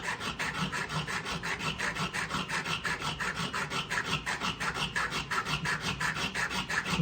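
Metal bezel for a stone setting being hand filed, a close, steady rasping with quick, even back-and-forth strokes repeating throughout, alone without talk.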